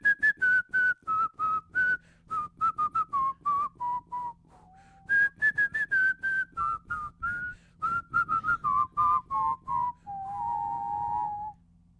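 Two people whistle a duet on a radio sports talk show, a bright melodic line in short repeated phrases with pauses, ending on a longer sustained held note.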